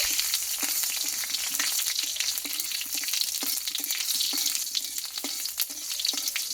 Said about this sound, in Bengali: আর এখানে দেবো একটা এলাচ আর একটা দারচিনি স্টিক আর দেবো হাফ চামচ মতো গোটা জিরে দিয়ে ফোড়নটা একটু ভালোভাবে আমি ভেজে নেব